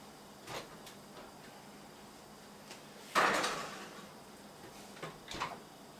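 An oven door in a home kitchen thumps and clatters as it is opened and shut, with a loud central clunk and a few quieter knocks and clicks around it.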